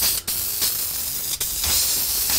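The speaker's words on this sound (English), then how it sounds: "I'm gonna spray the surface of that thing." Spray can applying a coat of finish onto a carved wood surface indoors, a loud, close, steady hiss broken by two short pauses between bursts.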